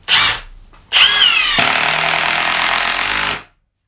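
Milwaukee M18 Fuel half-inch mid-torque impact wrench on setting 3 backing out a 3-inch bolt: a short burst, a brief pause, then a loud, close, continuous rattling hammer lasting about two and a half seconds before stopping abruptly.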